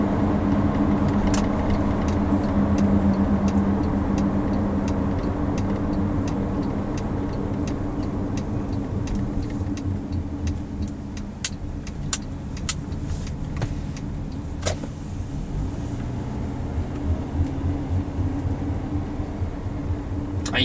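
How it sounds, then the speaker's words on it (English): A 2007 Honda CR-V with the K24 engine and about 90,000 miles, droning steadily from inside the cabin while driving, with a few faint clicks and rattles over the continuous road and engine hum. "You can definitely hear the engine."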